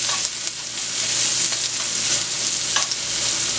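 Garlic fries in oil already flavored from cooking shrimp, giving a dense, steady sizzle close to the pan, with occasional light scrapes of stirring and no talk.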